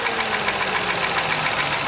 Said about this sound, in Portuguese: o barulho do motor tá aí presente